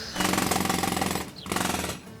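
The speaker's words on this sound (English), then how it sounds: "Drilling?" Loud jackhammer-style drilling from neighbours in Britain, pounding in a rapid stutter in two sustained bursts split by a short pause.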